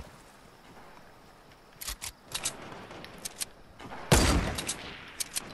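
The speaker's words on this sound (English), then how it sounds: "How did that shot miss?" Gunfire in a Fortnite duo squad match comes as scattered sharp shots and short bursts, with one loud, close blast and a few quicker, lighter pops after it.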